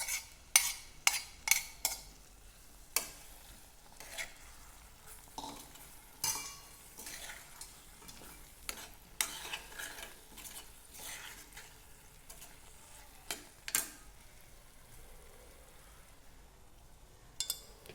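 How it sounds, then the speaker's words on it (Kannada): A metal spoon stirs cooked beans, carrots and potatoes into a masala pot for poori bhaji, making sharp intermittent clanks and scrapes against the vessel over a faint background sizzle, with no voices. "ಬೇಯಿಸ್ಕೊಂಡಿರುವಂತಹ ಕಾಯಿಪಲ್ಯ ಅಂದ್ರೆ ಬೀನ್ಸು, ಕ್ಯಾರೆಟು, ಆಲೂಗಡ್ಡೆನ ಈ ಪಾತ್ರೆಗೆ ಸೇರಿಸ್ಕೊಬೇಕು"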